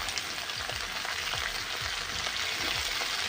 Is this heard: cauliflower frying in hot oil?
yes